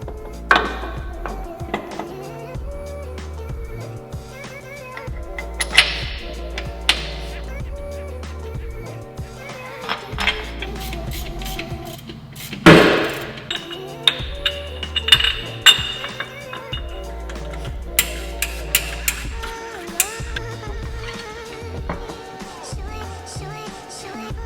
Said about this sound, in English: Let's start bolting some of this stuff on.